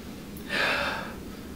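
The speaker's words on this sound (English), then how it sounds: "And let's sniff this sucker." One quick, sharp inhale through the nose, close and brief, like a single deep sniff of the perfume Tea for Two by L'Artisan Parfumeur.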